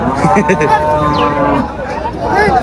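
Cattle at a busy livestock market, with low lowing under loud, continuous nearby talk from handlers and a crowd.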